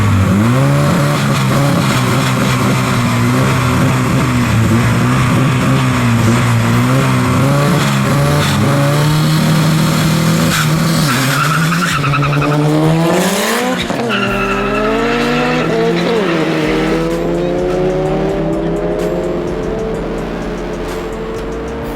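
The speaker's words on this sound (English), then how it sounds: "his B18 Turbo Civic is going to race Johan in the Mazda FE-powered Turbo Bantam in another front-wheel drive list race." A B18 turbo Honda Civic and a Mazda FE-powered turbo Bantam race in a front-wheel-drive list race, loud close engine drone with rising revs, shifts and tire squeal as the cars accelerate and pass.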